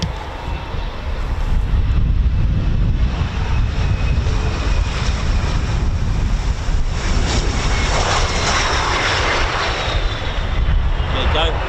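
Embraer aircraft passing with a loud, broad jet engine roar that holds steady throughout, while people talk over it.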